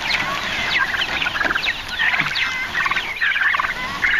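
Turkeys call continuously in a busy flock on grass pasture, overlapping warbling gobbles and clucks filling the whole stretch at steady volume with no talk.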